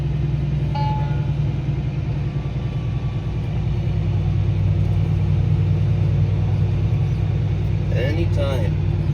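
Steady, loud low engine rumble from a Fendt tractor during a ride, droning continuously throughout with a few faint higher tones near the end; people talk over it.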